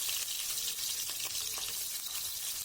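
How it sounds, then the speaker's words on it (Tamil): Chana dal fries in oil for a vazhaithandu sambar, giving a close, continuous crackling sizzle with light stirring scrapes and no voices. "கடலைப்பருப்பும் நல்லா பொரிஞ்சு வரட்டுங்க"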